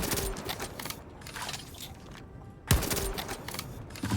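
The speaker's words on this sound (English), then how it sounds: "I'll shoot 2 pellets at every castle" Hibana's pellet launcher fires in Rainbow Six Siege, rapid mechanical gunfire-like bursts with a sharp impact thump partway through, loud and busy within game sounds.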